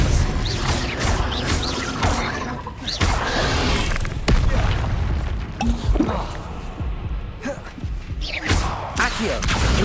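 Repeated Confringo blasting spell explosions in Hogwarts Legacy combat, loud booms and crashes mixed with clanking impacts in close succession, continuous and dense throughout.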